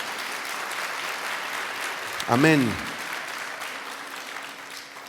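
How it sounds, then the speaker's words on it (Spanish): A church congregation applauds in praise to Jesus during an evening sermon, a steady wash of clapping running the whole time while one voice calls out a single word midway. "Dele un aplauso de gloria a Jesús"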